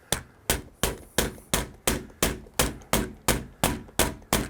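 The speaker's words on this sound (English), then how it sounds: "we want to hammer it with something. Boom, boom, boom" A door latch being hammered into place on a keypad electronic lock set: twelve sharp, evenly spaced metallic knocks, loud and close, each ringing briefly before the next strike.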